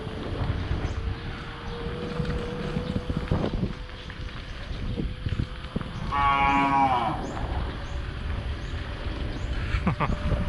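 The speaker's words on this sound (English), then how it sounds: "Lots of cows." A cow lets out a long, clear moo partway through, over steady wind and outdoor rumble, on a village road in Bakhaw Norte, Kalibo.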